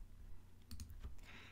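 Short bursts of keystrokes on a computer keyboard, a few quick clicks clustered together, fairly close and quiet against a soft background hum.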